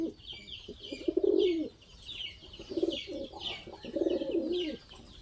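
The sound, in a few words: pigeons cooing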